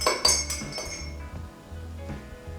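Separate spoons clink against glasses while stirring colored water, several quick bright taps close up at the start, then sparser lighter ringing clinks over a low background hum.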